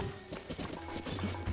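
A horse in Zelda: Breath of the Wild, rhythmic game hoofbeat clops close by, with a short whinny-like squeal amid the steps.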